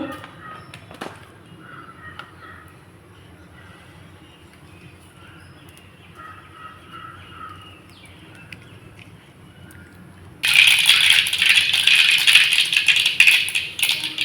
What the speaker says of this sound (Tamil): எண்ணெய் காஞ்சிச்சு கடுகு போட்டுக்கலாம்